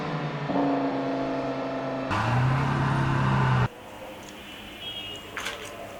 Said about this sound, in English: This is a racing car